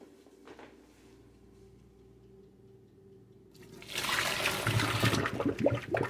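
Quiet low hum, then a loud rush of hot water from boiling eggs pouring and splashing into a sink for the last couple of seconds, close by.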